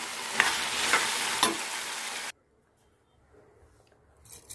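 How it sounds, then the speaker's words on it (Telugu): Grated tomato fries in a pan for a tomato coconut chutney, giving a loud, close, steady sizzle with a few stirring scrapes. It cuts off abruptly into near silence, and faint rustling follows. "తర్వాత నేను ముక్కలు కూడా కాకుండా తురిమి వేస్తున్నానండి టమాటా కొబ్బరి పచ్చడిలో. ఇది వేస్తే చాలా వేగుతుంది"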